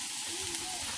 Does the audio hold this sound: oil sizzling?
yes